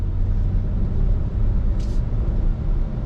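A 2022 Nissan Frontier Pro-4X truck drives along a neighborhood street, heard from inside as a loud, steady low engine and road rumble that holds even throughout, with a brief hiss partway through.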